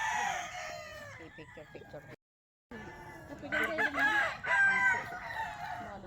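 A large flock of around a hundred farm chickens, with roosters crowing repeatedly and hens clucking over a busy, continuous din; a brief gap of silence breaks the sound partway through, and people talk in the background.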